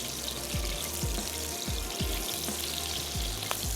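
Steady, crackling sizzle of mutton frying in hot oil with garlic-ginger paste, yogurt and green chilies for black pepper karahi, with occasional clinks and scrapes of stirring; no talking.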